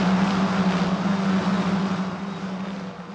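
A Euro 4 single-seater race car exits the Ascari chicane at Monza, its engine a loud sustained drone that slowly fades as it pulls away.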